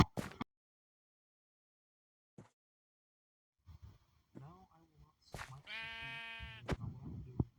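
Minecraft sheep bleating in a short wavering cry near the end, preceded by soft game clicks and footsteps with long silent gaps.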